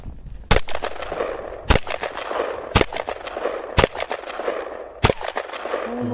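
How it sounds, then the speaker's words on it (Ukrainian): Five loud, sharp rifle shots ring out at uneven intervals during test-firing at body armor, each a sudden crack over a steady background rumble. "Декілька пострілів"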